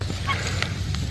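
Poultry in a homestead barn, with young turkeys and chicks, calling in a brief cluster of honking, gobbling notes from close by.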